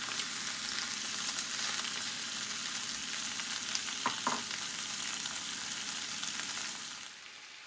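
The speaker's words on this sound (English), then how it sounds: "make sure that the onions go a little, hit the bottom so it's going to start caramelizing" Onions sizzle and fry steadily in a hot pan for a Moroccan beef tajine, a dense continuous crackle with a couple of brief stirring clatters before the sizzle fades slightly at the end.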